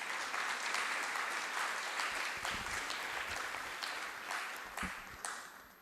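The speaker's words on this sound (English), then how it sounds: "So a big round of applause for these recipients of international honors." Audience at an academic research showcase applauding award recipients of international honors, a steady wash of clapping with a few sharper individual claps, slowly tapering toward the end.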